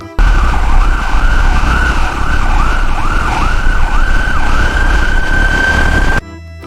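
A white toy ambulance plays its electronic siren, a loud steady wailing tone with repeating rising-and-falling sweeps that runs for about six seconds and then cuts off abruptly.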